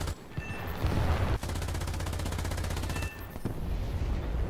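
Rapid machine gun fire from an IAR-81C fighter plane in the War Thunder game, a dense steady burst of evenly spaced shots lasting about two seconds over a constant engine drone, loud and close with no talking.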